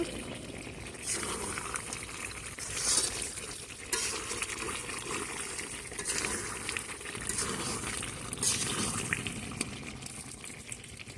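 Small local chicken cooking in a pan with bay leaves, a steady close frying sizzle broken by repeated scraping stirs of a spoon against the pan, with no voices.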